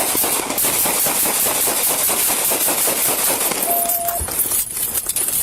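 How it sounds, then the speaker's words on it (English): Rapid gunfire in a police bodycam confrontation, a loud burst of many sharp shots in quick succession over a few seconds, harsh and close, followed by a brief electronic tone and a last crack. "Probably shots fired, shots fired, shots fired."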